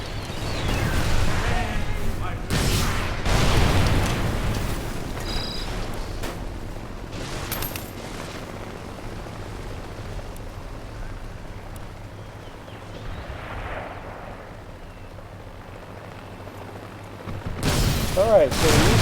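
Heavy explosions from an armor-piercing missile strike in the video game Mercenaries 2, with a cluster of booming blasts early on, a long rumbling aftermath, and another loud burst near the end.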